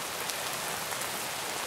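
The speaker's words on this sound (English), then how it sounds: "why is it raining? I don't like the rain." Steady rain pours down in Minecraft, a dense even hiss of drops with no pauses, fairly soft and heard alone.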